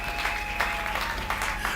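Congregation applauding the Lord at a church service, a steady wash of clapping with a few louder bursts, fairly close and loud, over a low sustained musical drone.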